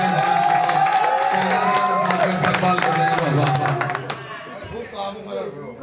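An audience at an Urdu poetry recital breaks into loud applause and cheering, with dense clapping and shouts of approval that hold for about four seconds and then fade into quieter murmuring voices.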